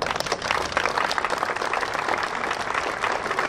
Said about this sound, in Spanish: Entonces, Mike, un fuerte aplauso para vosotros también.